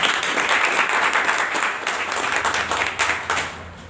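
An indoor audience gives a loud, sustained round of clapping at a company gathering, a dense and even applause that fades slightly toward the end.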